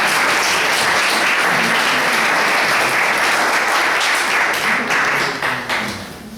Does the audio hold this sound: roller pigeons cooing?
no